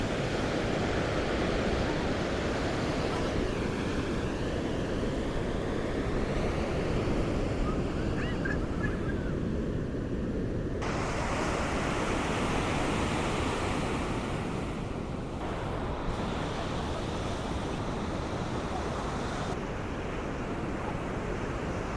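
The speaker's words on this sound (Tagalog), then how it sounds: "Sobrang lakas ng alon, parang tidal wave." Strong, heavy ocean waves roll in at a La Union beach, a continuous loud roar of surf with wind buffeting the microphone throughout, swelling and easing with each surge.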